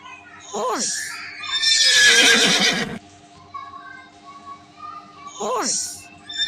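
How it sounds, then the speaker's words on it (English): A horse whinnies twice, a loud descending neigh near the start and another near the end, with a noisy burst and quieter stretch between them. "Horse."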